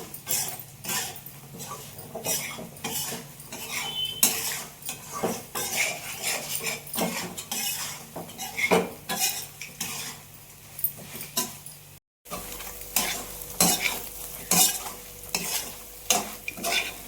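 Spice tempering for a small bitter gourd dish being stirred in a pan, with a steady close scrape-and-clatter rhythm of a spoon against metal over a soft sizzle, briefly cut off once, with no talking.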